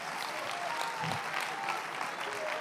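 A church congregation applauds in steady, dense clapping that fills the whole stretch without a break.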